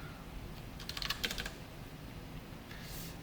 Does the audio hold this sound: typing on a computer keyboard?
yes